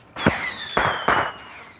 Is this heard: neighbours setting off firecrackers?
yes